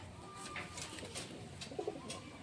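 Soft cooing of a fancy pigeon in a quiet room, a low murmuring call repeated a few times with faint background hiss and no talking.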